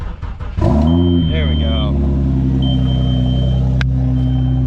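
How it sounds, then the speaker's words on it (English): Car engine cranking and catching, then settling into a steady low idle rumble that continues, with a person speaking briefly over the start. "I gotta start the car once in a while"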